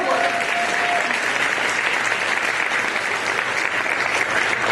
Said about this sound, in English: And let's give the servers in the room a round of applause for their work.